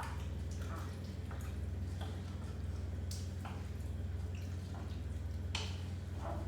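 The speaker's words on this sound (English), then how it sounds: "I'm going to give it a good stir." Chunky vegetable and rice soup is stirred in a pot with wet, squishy sloshes and faint drips over a steady low hum, quiet and close.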